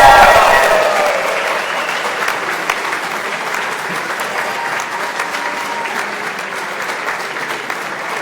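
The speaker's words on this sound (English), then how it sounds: "We applaud you all." A large graduation audience applauding the University of Washington Aeronautics and Astronautics class of 2024, sustained dense clapping in a big hall that is loudest at first and then eases off slightly.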